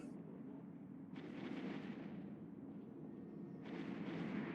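Close-range cannon fire during a space battle in the video game EVE Online, a steady low rumbling barrage with two sharper swelling bursts, dense, continuous and fairly muffled.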